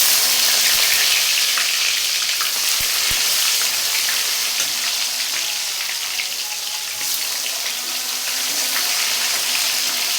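Chopped onion frying in oil with cinnamon, cardamom and whole cumin makes a steady, dense hiss and sizzle, close and loud, that keeps going the whole time with a few faint clinks.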